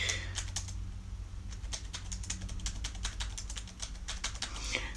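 Fast typing on a computer keyboard during a Duolingo exercise, a steady run of crisp close key clicks with short pauses between bursts, alone over a low hum.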